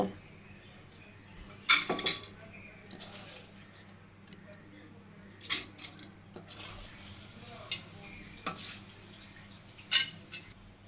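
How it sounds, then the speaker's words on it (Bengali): Washed rice and lentils tipped into a pressure cooker for khichuri, giving scattered clinks and knocks of metal and glass with a splash of water, a few sharper bursts standing out over a quiet kitchen background. "এখন এতে চাল ধোয়া আর ডাল ধোয়া দিয়ে দিব"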